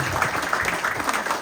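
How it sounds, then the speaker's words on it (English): An audience at a Friday museum talk gives a brief round of clapping. It is close and moderately loud, with many overlapping claps and some low room rumble underneath. "really round of applause for that"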